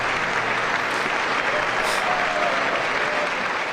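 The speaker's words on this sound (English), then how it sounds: "What the fuck are we clapping for now, anyway?" Sustained, dense applause from a large audience at the 2026 State of the Union address, loud and even throughout with no pauses.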